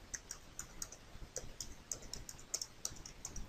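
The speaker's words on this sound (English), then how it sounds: "you open up a window and you type this in." Keystrokes on a computer keyboard typing a web address, a steady run of quiet, close clicks in irregular rhythm, heard alone without talk.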